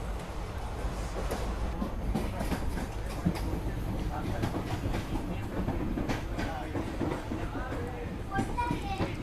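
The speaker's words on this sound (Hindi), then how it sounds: "ये कोई स्पेशल ट्रेन थी जो कि शायद से जबलपुर की तरफ से आ रही है।" A special passenger train from Jabalpur passes with a steady rumbling clatter of wheels on rails, while voices, including children's, are heard throughout.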